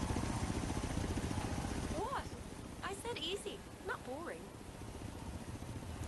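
Helicopter in the Forza Horizon 3 racing game on Xbox One, a steady rotor and engine drone that fills the background while a person talks over it.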